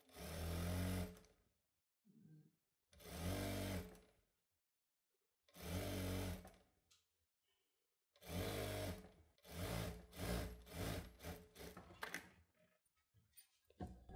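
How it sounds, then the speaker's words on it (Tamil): A sewing machine stitches a folded quarter-inch hem on a child's dress in several steady runs of a few seconds each, separated by silent pauses, then ends in a quick series of short bursts. The stitching is close and clear. "இந்த பாட்டத்தில் வந்து நான் இந்த மாதிரி வந்து மடித்து தச்சு எடுத்துக்கிட்டேன்"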